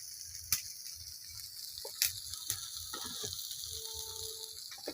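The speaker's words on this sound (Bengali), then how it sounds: "এই যে মাছ দিয়ে দিলাম, এবার সিদ্ধ হইলে নামাই দিব।" Rohu fish pieces hissing in a pan of bitter gourd and potato curry, a soft continuous sizzle broken by a few sharp clicks and taps of utensils.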